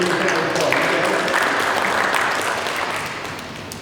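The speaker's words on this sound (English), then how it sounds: "everybody give me a round of applause." An audience at a Rotary club meeting claps in sustained, dense applause that fades slightly toward the end.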